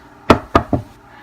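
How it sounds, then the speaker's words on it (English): Three quick knocks on wood, sharp and close, the last one softer, with quiet room tone around them. "knock on wood"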